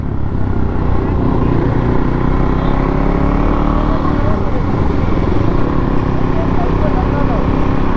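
Kawasaki Ninja 300 motorcycle ridden at night over a city bridge, a steady loud engine drone with wind rush throughout, talk faintly mixed in.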